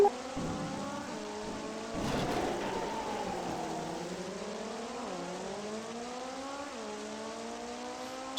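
Steady rain hiss fills a racing video game while a racing engine whines and shifts pitch up and down, with a louder burst of spray partway through.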